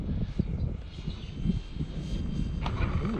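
A Freewing Pandora RC airplane's electric motor runs up under power after a touch and go, a faint steady drone heard from a distance with some outdoor background noise.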